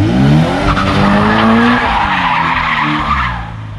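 A Toyota 86/Subaru BRZ drifts with loud, sustained tire squeal and skidding close by, its engine droning beneath and the squeal wavering in pitch before easing toward the end.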